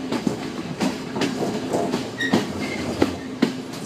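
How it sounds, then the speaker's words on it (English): A passenger train running on the railway between Ella and Haputale in Sri Lanka rattles along with loud, rhythmic clickety-clack from the wheels, heavy carriage rumble and a brief squeal, heard from on board. "to be on the train right now."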